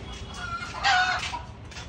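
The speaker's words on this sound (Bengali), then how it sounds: "মুরগি এত ডাকছে কেন?" Chickens clucking nearby, with one loud, drawn-out squawking call standing out over a low background of farmyard noise, short and close.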